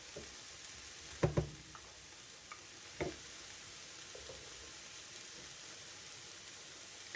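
Chopped tomatoes frying in a pan for chicken quesadillas: a steady soft sizzle throughout, broken by a couple of sharp clanks of stirring near the start.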